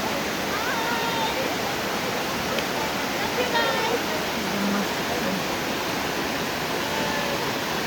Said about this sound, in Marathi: अभी धबधबा देखने आए.